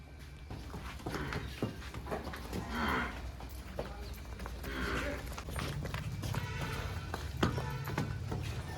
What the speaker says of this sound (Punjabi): ਕਿੰਨੀ ਸ਼ਾਨਦਾਰ ਲੇਵੇਦਾਰ ਮੱਝ ਹੈਗੀ ਤੇ ਆਪਾਂ ਤੁਹਾਨੂੰ ਚਲਾ ਕੇ ਵੀ ਦਿਖਾਵਾਂਗੇ